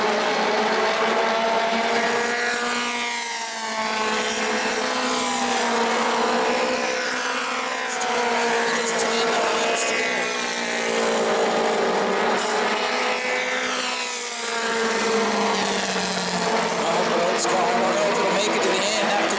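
Race car engine out on the track at New Smyrna during a modified mini feature, roaring loudly and continuously with rising and falling pitch as the car laps, under a commentator's running talk.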